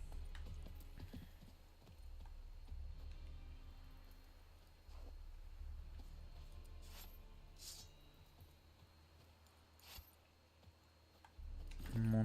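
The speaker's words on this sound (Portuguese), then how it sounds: "Chamar o cavalo aqui" Horse hooves clip-clop at a steady walking rhythm in The Witcher 3, continuing through most of the stretch and fairly close, with a few sharper clicks and louder game sounds toward the end.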